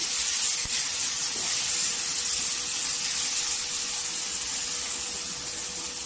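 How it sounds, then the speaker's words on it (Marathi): Masala of Kashmiri red chilli and kala masala sautéing in hot oil for masala moong rice gives a steady, close, even hiss that holds unbroken for the whole stretch with no talk. "तेलावर परतायचं छान असं मसाला"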